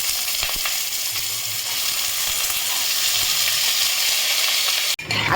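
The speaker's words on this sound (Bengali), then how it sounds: "তেলটা গরম হয়ে গেছে, এবারে আমি আলুটা এটা ছেড়ে দিচ্ছি" Potatoes frying steadily in hot oil seasoned with panch phoron and bay leaf, a loud, continuous close sizzle that carries on without a break and then cuts out abruptly near the end.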